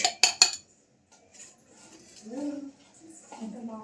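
A spoon clinks three times in quick succession against a container while measuring chickpea flour (sattu) for a drink, followed by someone speaking close by.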